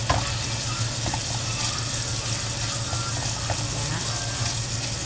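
Chicken and beef browning in a pan for sisig give off a steady, close sizzle with a constant low hum running beneath it and no voices.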